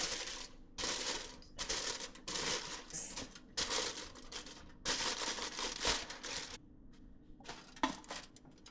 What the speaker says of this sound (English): I'm going to be using the foil paper to cover it to steam it up.